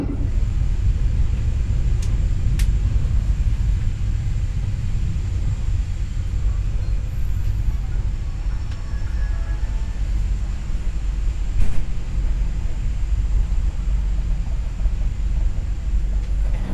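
An executive-class passenger train of the Bangunkarta service rolls on the rails with a steady low rumble and drone, heard from inside the carriage. A few faint clicks and squeaks come over the continuous noise.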